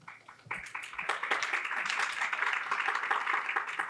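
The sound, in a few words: audience applause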